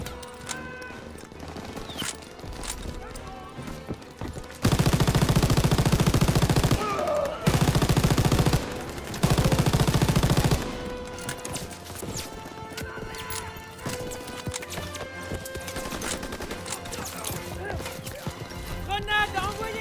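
Dense, loud bursts of machine gun fire ring out in a Call of Duty WWII D-Day battle, with the heaviest sustained volleys in the middle, over constant battlefield noise and shouted voices.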